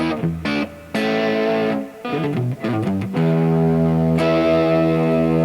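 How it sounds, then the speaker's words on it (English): Distorted electric guitar chords with preamp distortion ring out loud and sustained, several strummed hits with a gritty, saturated edge from an untuned guitar, played alone without any talking. "you can hear there's preamp distortion there"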